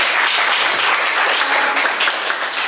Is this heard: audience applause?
yes